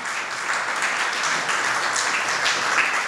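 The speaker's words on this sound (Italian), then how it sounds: "Un forte applauso alla memoria di un grande attore e regista" Sustained applause from a film festival audience honoring a late actor and director, dense and steady throughout, moderately loud and fairly close, with no talk over it.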